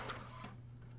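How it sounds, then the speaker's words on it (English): An HP OfficeJet Pro 8710 inkjet printer printing a printhead alignment page gives a steady mechanical whir with a low motor hum and a brief burst of higher carriage noise near the start, close by with no talk. "the printer will align the printhead and print out a page"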